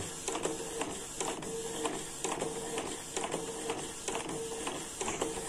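A Canon IP2770 inkjet printer printing an ID card on pigment ink, its print head shuttling back and forth in a steady, regular rhythm of mechanical whirring and clicking, fairly quiet and close with no voices.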